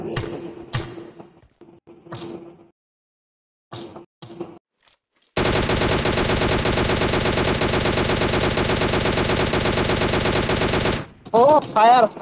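Gunfire in the battle-royale video game PUBG: a few sharp isolated shots, then a long, loud, sustained burst of rapid automatic fire lasting several seconds, ending abruptly before a brief voice.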